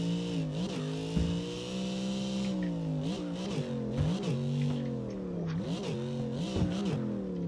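A V8-swapped VZ 210 with a sequential gearbox in CarX Drift Racing revs hard, with repeated rises and drops as it shifts, and a few tire squeals. The engine is loud and close, with no talking.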